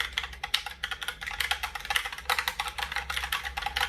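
Rapid, continuous typing on a Logitech Pop Keys mechanical keyboard, with crisp, clacky keystrokes in quick irregular bursts, close-up and without any voices.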